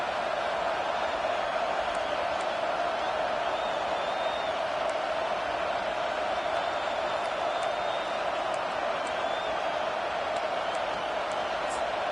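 Stadium crowd noise in a football video game makes a steady, dense roar on third down, with high whistles and cheers scattered through it and a voice faintly audible beneath.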